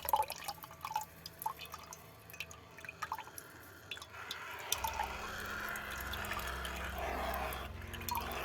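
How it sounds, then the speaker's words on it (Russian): Nitric acid solution is poured over a gold concentrate to dissolve sulfides, starting with scattered close drips and then turning into a steady, soft trickle of pouring liquid. "Наливаю раствор азотной кислоты для того, чтобы разложить сульфиды и убрать остатки техногена."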